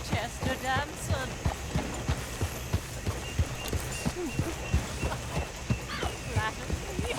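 Horse-drawn coach in Red Dead Redemption 2, steady rhythmic clip-clop of hooves close by over rolling road noise, with people talking throughout.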